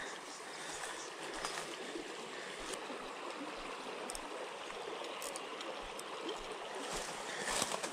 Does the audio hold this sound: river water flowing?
yes